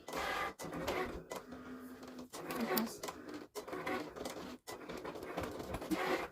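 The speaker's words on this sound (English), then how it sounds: "it's cutting our message into the vinyl" Vinyl cutter machine slicing lettering into vinyl for a T-shirt, close whirring and buzzing passes broken by brief pauses as the carriage stops and reverses.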